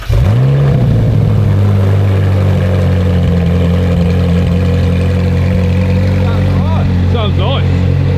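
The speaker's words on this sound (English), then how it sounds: "we need to do the obligatory start up without the back box to see what it sounds like" A Ferrari 458 with its back box removed fires up with a sharp startup flare, then settles into a steady, deep, loud idle that holds for several seconds with a slight rise near the end.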